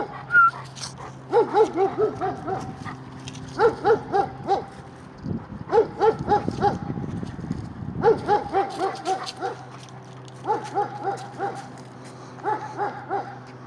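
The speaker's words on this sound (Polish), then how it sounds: "nie szczekaj, bo mnie mleko skiśnie" A dog barks and yips in repeated bursts, high and fairly close, with short pauses between volleys and a low steady hum underneath; a brief rustling patch sits in the middle.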